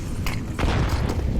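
Botched grenade in a Counter-Strike-style tactical shooter match bouncing off a mailbox wall and exploding at a player's feet, a short muffled boom over a dense game mix.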